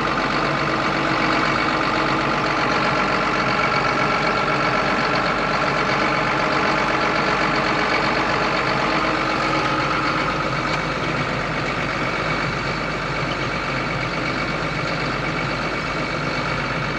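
Engine of a 1990 GMC OBS single cab long bed four-wheel-drive truck idling, a dense continuous rumble and clatter that stays loud and even throughout, with no talking.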